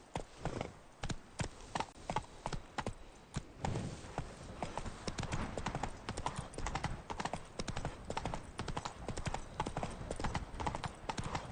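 Galloping horse hooves in The Witcher 3, a rapid, driving clip-clop rhythm that runs continuously and fairly close, with game ambience underneath.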